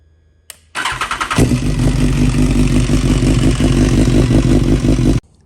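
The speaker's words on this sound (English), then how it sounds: "I'll start the bike up, let it run for a few minutes" A BMW S1000RR sport motorcycle's engine cranks briefly, then fires and settles into a loud, close, steady idle with a throbbing rhythm before cutting off.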